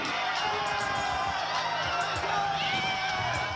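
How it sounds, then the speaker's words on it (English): A crowded bar of San Francisco 49ers fans at a watch party cheers and whoops after a playoff win over the Eagles, a sustained roar of voices with shouts rising throughout. "people were on their feet cheering"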